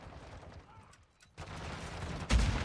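Gunfire in Modern Warfare 2 sounds in quick bursts, with a quiet lull before a louder cluster of shots and a heavy boom near the end.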